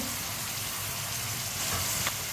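Finely chopped tomatoes and green chillies sizzle in a hot pan, a steady, close hiss of frying that carries on without a break, with no voices.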